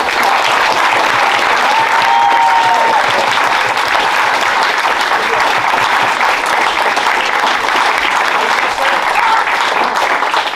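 Loud, dense applause from an audience at a ladies' presentation evening, steady crowd clapping close and continuous, with a brief whistle-like tone early on.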